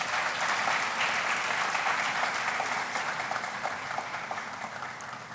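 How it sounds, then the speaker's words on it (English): Audience applauding the faculty at a pharmacy white coat ceremony, a broad, continuous wash of clapping from a large crowd that gradually tapers off toward the end. "I think the faculty deserves an applause"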